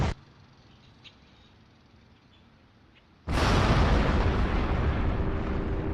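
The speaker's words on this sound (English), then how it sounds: "the intense bombardment causes one of the warheads to detonate" A nuclear warhead detonates amid an intense airstrike bombardment near Lahore. Near silence breaks into a sudden, loud blast, followed by a sustained roaring rumble that fills the rest of the moment.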